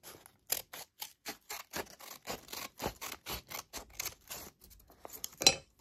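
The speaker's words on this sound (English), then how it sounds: "I just cut the excess off." Scissors snip away excess paper while making a paper fortune teller, about a dozen short crisp cuts in a steady rhythm, close and quiet with no talking.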